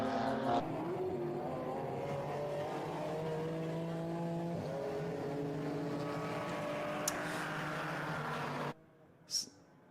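McLaren Artura and Porsche Cayman race cars at Portimão, engines roaring close together with rising and shifting pitch through several gear changes, then a brief drop to near silence and a short burst as another car passes.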